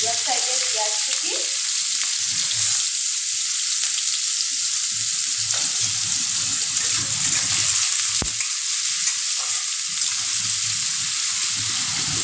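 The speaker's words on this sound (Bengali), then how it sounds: "পেঁয়াজ কুচিটা একটুখানি ভাজা করে নেব" Chopped onion fries in hot oil with cardamom and cinnamon, a steady, loud sizzle that carries on unbroken, with faint stirring clatter running underneath.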